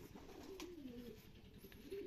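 Soft, low coos of pigeons kept in a backyard setup repeat close by, with a steady murmur of background noise and no voices.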